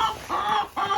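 Chickens kept in a winter-prepared coop with extra hay cluck up close in three quick, loud bursts, with no talking.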